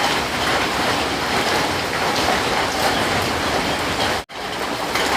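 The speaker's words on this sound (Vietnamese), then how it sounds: "Trời lại mưa dày hạt rồi," Heavy rain falls steadily as a dense, loud, unbroken hiss with one very short break near the end and no voices.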